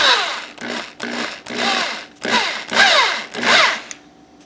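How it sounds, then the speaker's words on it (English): Power drill spinning a coin ring on a mandrel, whirring in repeated bursts of about half a second each with short pauses between, loud and close with a rising and falling pitch in each run. "You want to actually then just start the drill and just make sure that you don't have a wobble to the coin"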